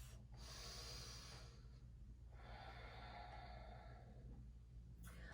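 Slow, deep breaths during a yoga pose, two long airy inhales and exhales heard close and quiet, with a soft low hum in the room behind.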